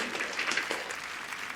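Audience applause at the Game Awards, a broad steady wash of many hands clapping with no let-up through the short stretch, moderately loud and evenly spread, with faint voices barely under it.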